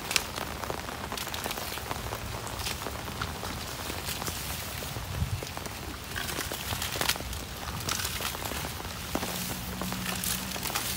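Heavy rain pours onto the ground and a tree canopy outdoors, a dense steady hiss with scattered louder drops throughout.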